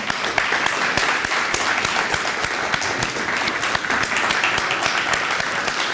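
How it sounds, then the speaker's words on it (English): Enthusiastic audience applause at an arts center ribbon-cutting ceremony, dense sustained clapping from a sizable crowd, bright and steady for several seconds without any talking. "We should applaud, and frankly, I think you deserve a standing ovation."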